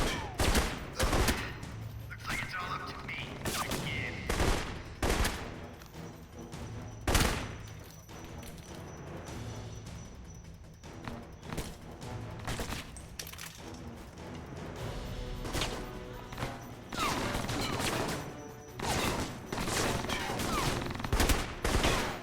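Loud, repeated gunshots and rattling automatic bursts crack out at a live fire range in the video game Alpha Protocol, spaced in uneven volleys with short pauses between them.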